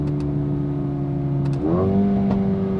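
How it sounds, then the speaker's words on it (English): A Mercedes-AMG A35 hot hatch engine drones steadily, then its pitch jumps as it revs up, with a couple of brief popping backfire bursts from the exhaust. "Ooh, a little bit of backfire."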